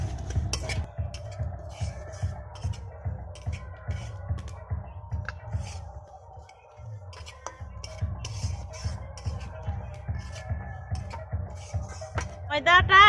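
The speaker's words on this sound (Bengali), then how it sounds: "এরপরে আমি সুজিটাকে হালকা হালকা করে ভেজে নেব।" Semolina being stirred and dry-fried in a kadai, with a steady rhythmic scrape and knock of the spoon against the pan, repeating in quick even strokes and pausing briefly midway.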